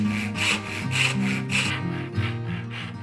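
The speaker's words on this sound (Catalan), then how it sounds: "El següent pas serà treure el sobrant exactament igual que hem fet abans amb la serra de bugir." A hand saw cuts away waste wood while making a joined wooden box, in steady rhythmic back-and-forth strokes, about six close raspy passes with no talking.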